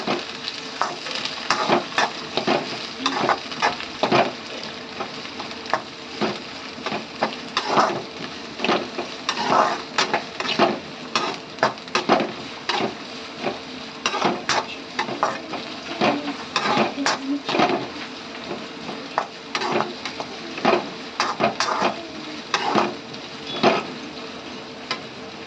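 Onions and green chillies sizzle steadily in a hot pan as chicken fry is prepared, with frequent scraping clicks from stirring running through the whole stretch.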